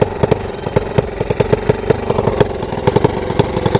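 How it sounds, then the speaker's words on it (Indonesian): Motorcycle with a sleep-engine low idle setting and a leaking, battered exhaust, idling close by: a steady low rumble broken by sharp, irregular pops and cracks throughout, with no voices. "sepertinya bocor knalpotnya guys"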